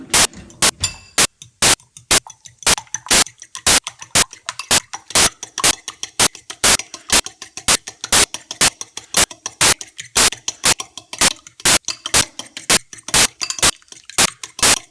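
A fork whisks eggs seasoned with salt and pepper for an omelet, a fast, steady run of sharp clinking taps against the bowl, close and loud, repeating evenly for the whole stretch with no talk.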